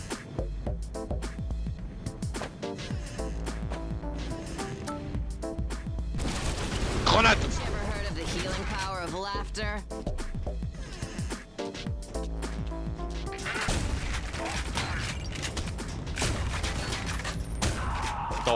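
Repeated loud blasts and mechanical pump clicks from a shotgun in the retro shooter Ion Fury Aftershock, rapid bursts of fire mixed with game effects and music.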